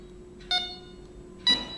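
A CarpSounder AGE ONE carp fishing bite alarm sounds two short, clear electronic beeps about a second apart, close and fairly loud in a quiet setting.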